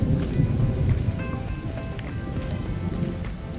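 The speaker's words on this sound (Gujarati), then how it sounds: "બહાર નીકળ્યા અને વરસાદ શરૂ થઈ ગયો" The season's first rain falls outdoors at Neelambagh Palace in Bhavnagar, a steady close patter on surfaces with faint murmurs in the background.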